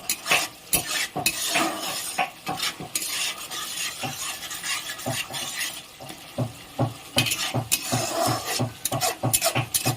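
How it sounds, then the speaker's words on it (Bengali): Chhena curry sautéing in a pan for vegetarian chhanar dalna, with a metal spoon scraping and clinking against the pan in quick repeated strokes over a background sizzle. "ভালো করে কষিয়ে নেব।"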